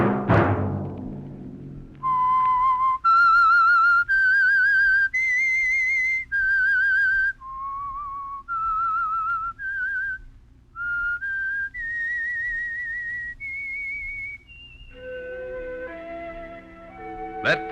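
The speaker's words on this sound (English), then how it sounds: "Let that whistle be your signal" A solo whistled melody, clear and close, moving through a slow series of sustained notes with brief pauses, ending as music enters.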